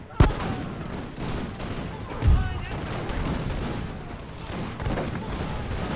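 Musket volleys in an American Revolution mod battle game, sharp scattered shots and a louder crackling volley over a continuous battlefield din, with a voice talking through it.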